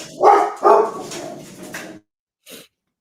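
A dog barks loudly twice near the start, followed by softer whimpering and yipping, then a brief final bark after a short silence, heard at close range indoors.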